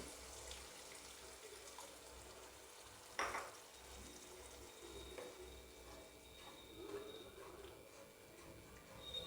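A small amount of hot water poured into sizzling egg curry masala in a pan, with a sharp hiss and splash near the start, then steady frying crackle and soft bubbling continuing underneath, fairly quiet overall.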